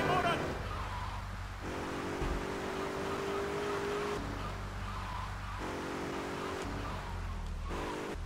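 A car drives in the video game GTA III, its engine humming steadily with bursts of revving and tire noise, loud and continuous from start to finish, with a voice faintly present underneath.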